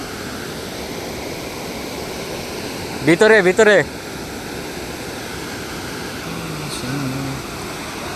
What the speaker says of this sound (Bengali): ঝর্ণার পানির যে শব্দ,